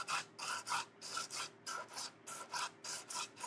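Rhythmic back-and-forth strokes of coarse, lower-grit sandpaper rasp against a wooden dress form, about a dozen even scratchy passes close up with no talking.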